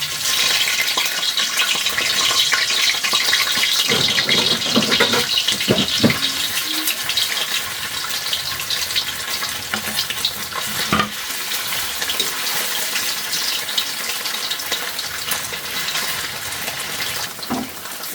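Meatloaf frying in a pan with a steady, close, crackling sizzle that runs throughout, with occasional clinks and stirring scrapes rising above it.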